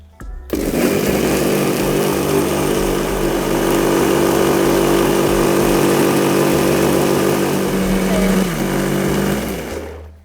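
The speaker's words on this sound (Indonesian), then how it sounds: "Oke, ini kita blender sampai halus dulu." An electric blender runs steadily at high speed, whirring sugar and water into a smooth liquid, loud and continuous for about nine seconds before winding down.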